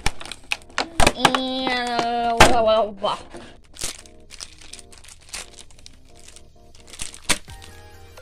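Packing tape is torn off a Good Smile Company Nendoroid box, giving sharp crackles, rips and thunks spread across the stretch, close and loud, under and between a person's talk.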